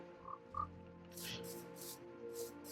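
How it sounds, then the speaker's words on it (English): Frogs croak in Minecraft, two short low croaks followed by several softer breathy bursts, quiet and a little distant, with no talk. "I added frogs."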